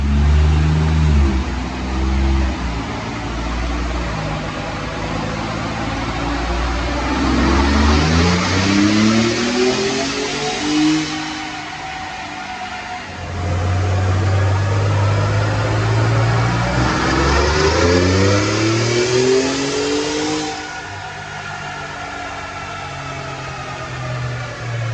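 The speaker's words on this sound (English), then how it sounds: "we're going to watch a dyno pull" A 2018 Ford F-150 with a 3.5L EcoBoost engine, fitted with methanol injection and a Whipple Mega Cooler, revs hard on a dyno in two long pulls: loud rising engine drone that climbs in pitch, drops off, then climbs again, with no talk.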